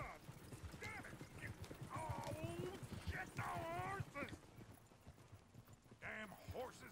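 Horses' hooves clip-clop at a trot with a whinny in Red Dead Redemption 2, layered with busy game-like background noise and scattered voices.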